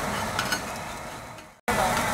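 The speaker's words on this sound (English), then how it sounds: "right now we're basically cooking udon noodles with soy sauce or okonomiyaki sauce" Udon noodles fry with soy or okonomiyaki sauce on a large hot griddle, giving a steady close sizzle that cuts out briefly near the end before returning at full strength.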